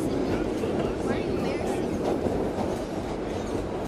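A 1930s New York subway car rocks and rattles along the tracks, with steady rumble and rhythmic clatter of wheels filling the ride, and faint crowd chatter underneath.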